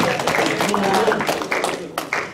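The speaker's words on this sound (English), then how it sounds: "Somebody give the Lord a hand clap of praise" A church congregation claps their hands in praise, with a run of sharp, closely spaced claps mixed with voices and calls, then a couple of louder isolated claps near the end.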